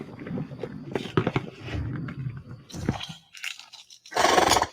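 A woolly rhino in a video game makes wet, crunchy chewing and gnawing sounds with irregular bites and scrapes, ending in a louder crunching burst.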